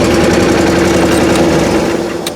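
A generator starting up and running in a garage for charging a dead Rolls Royce, giving a steady droning engine hum with a constant low tone, fairly loud and close, easing slightly at the end.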